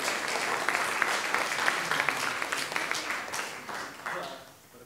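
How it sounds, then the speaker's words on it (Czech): An audience at the Pardubický kraťas 2024 short film awards ceremony applauds two winners, with dense, steady clapping close by for about four seconds before it tapers off. "Klukům ještě jednou zatleskejte, prosím vás."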